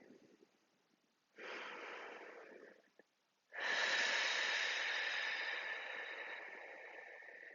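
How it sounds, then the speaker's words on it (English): A slow, deep breath is drawn in and then let out, a soft airy hiss that rises, pauses briefly, then streams out longer and stronger, close and alone without talk. "you can take a deep breath in"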